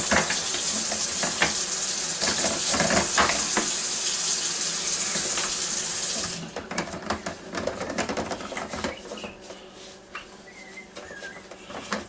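Tap water runs steadily over the parts of a Waring FS155 7.5-inch food slicer being washed, a broad hissing rush for about six seconds that then drops off into lighter splashes and clatter.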